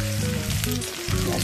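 Onions with chopped green chillies frying in a pan for an Assamese jackfruit-seed curry, a dense steady sizzle with crackling, close and continuous with no talk.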